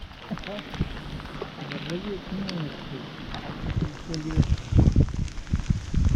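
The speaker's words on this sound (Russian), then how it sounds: "Уже 20 минут поливает сильно." Steady heavy rain patters and hisses on a surface nearby during an outdoor fishing trip, with someone talking over it and some knocking sounds.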